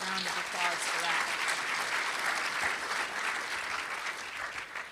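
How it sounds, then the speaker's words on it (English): An audience applauds steadily at a biodiversity symposium in San Diego, with dense, sustained clapping that fills the room for the whole stretch and fades only slightly at the end. "Let's have a round of applause for that."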